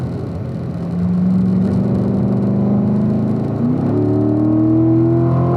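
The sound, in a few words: car accelerating on track under throttle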